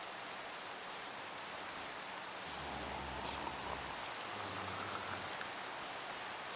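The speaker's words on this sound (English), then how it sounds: "It's just continuing to rain." Rain falls steadily in Minecraft, a constant soft hiss of drops that runs through the whole stretch, with a faint low hum partway.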